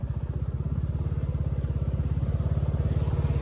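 A Royal Enfield Bullet motorcycle thumps along at speed, its single-cylinder engine giving a fast, even, low pulsing beat that stays loud and steady throughout, with wind rush on top and no talking.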